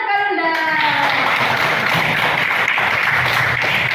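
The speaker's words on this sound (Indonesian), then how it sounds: "Tepuk tangan." Applause from a classroom of children, dense clapping that swells after a brief opening and holds steady and loud throughout.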